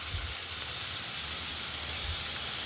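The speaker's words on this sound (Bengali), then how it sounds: "এবারে আমি দিয়ে দেব সেই বাটা মশলাটা।" Ground spice paste hits hot oil already seasoned with five-spice seeds while cooking a hilsa fish dish, giving a steady, soft sizzling hiss with a couple of low bumps from the pan.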